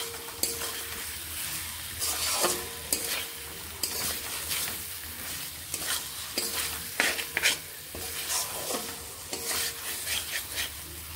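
Pre-fried potatoes are stir-fried with spices in a pan for dhaba-style ghughni, with a constant sizzle under repeated rhythmic scraping strokes of a spatula every second or so, close and clear, with no talk.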